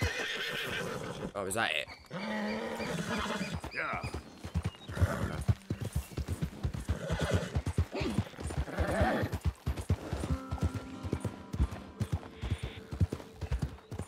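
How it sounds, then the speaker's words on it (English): Horse in Red Dead Redemption 2 whinnying and clip-clopping its hooves up close, with a rearing neigh early on and steady hoofbeats after, under someone talking over the game audio. "We're bonding with our horse."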